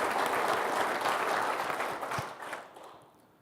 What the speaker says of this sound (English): let's give those good guys another round of applause